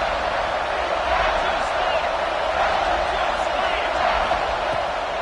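Continuous stadium crowd roar from a college football video game, a broad steady wash of voices at a constant loud level.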